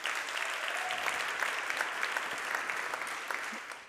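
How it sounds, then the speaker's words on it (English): Sustained applause from a large audience gathered in a packed room at a 2022 event, steady dense clapping at even loudness throughout with a few brief voices mixed in. "So how about a round of applause for that?"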